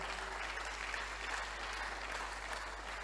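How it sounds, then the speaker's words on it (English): A crowd claps steadily, a dense, even wash of applause at moderate volume that holds for a few seconds, with a low hum underneath. "Please celebrate them. Clap for them well."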